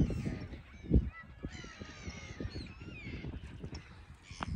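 Ducks calling outdoors in Switzerland, a busy cluster of honking and quacking calls at moderate distance mixed with other bird sounds and light ambient noise.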